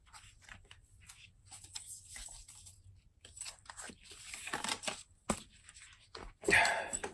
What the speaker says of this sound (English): I dropped the deck just now